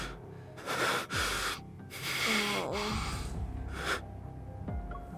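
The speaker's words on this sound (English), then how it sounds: "Zayne's labored breathing shows how intense the pain is" Zayne from the game Love and Deepspace breathes in pain: ragged gasps and strained, wheezing breaths come up close in several uneven bursts, with a short spoken exclamation among them.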